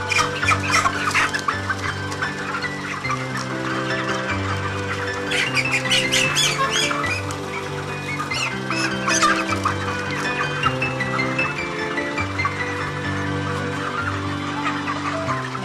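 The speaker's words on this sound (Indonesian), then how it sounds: "Setelah itu kita menangkap ayam yang akan ditimbang secara acak." Broiler hens squawking and clucking loudly and close by as they are caught at random for weighing on a poultry farm, a flurry of agitated calls running on continuously without talk.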